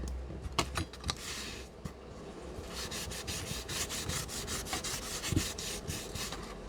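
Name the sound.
sanding a journal page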